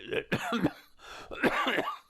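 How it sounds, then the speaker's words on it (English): A few harsh, throaty coughs in quick succession, close and loud, with short pauses between bursts. "I do have to live with this cough."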